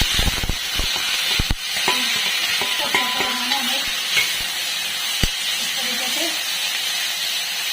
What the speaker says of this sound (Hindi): तेल तो बहुत अच्छे तरीके से गर्म हो गया है। अब मैं सबसे पहले प्याज और लहसुन को डालूंगी इसमें।